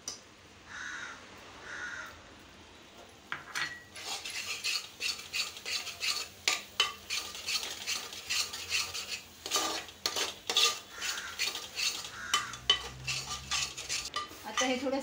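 Carrot burfi mixture stirred in a pan, a steady run of close scraping and clinking strokes with a crow cawing loudly nearby at the start.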